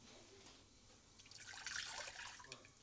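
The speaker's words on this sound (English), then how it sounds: "So I filled this jar with hot water, pouring it into the pan." Hot water poured from a jar into a pan in a home kitchen, a soft steady trickle that swells into a louder splashing stream midway, close by, with no voices.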